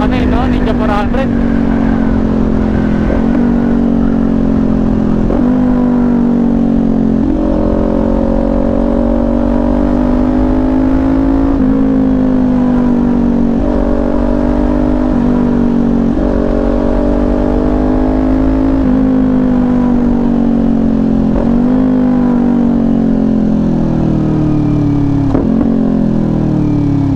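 A Kawasaki Ninja 400 motorcycle engine revs loud and close, its pitch rising and falling through repeated throttle blips over a steady drone.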